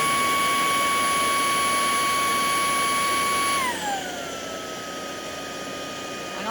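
An Ultenic cordless vacuum cleaner runs with a steady high-pitched whine, then its motor pitch drops smoothly to a lower, quieter hum as the power mode changes partway through.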